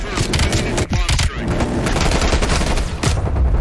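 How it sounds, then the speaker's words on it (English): A minigun fires in the video game Call of Duty Black Ops Cold War, loud rapid bursts of gunfire rattling almost continuously, with brief gaps and a voice speaking over part of it. "Ooh, minigun."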